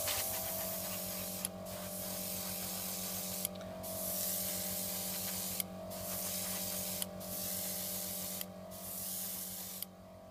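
Aerosol can spraying a fixing coat onto a model kit: a series of about six close, loud hissing bursts separated by short gaps, over a constant low hum.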